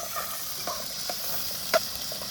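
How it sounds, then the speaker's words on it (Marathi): Onion sautéing in a pan for a goat blood dish gives a steady, moderate sizzle with a few soft stirring scrapes and one sharper clink near the end, no voices. "कांदा परतून घेऊया"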